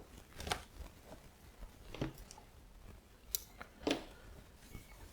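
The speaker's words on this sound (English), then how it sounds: "I think I need to cut this part of the packaging as well" Scissors snip through the cardboard and plastic packaging of a Waterman Carene Black Sea fountain pen, a few faint, close crisp cuts and crinkles spaced over several seconds in a quiet room.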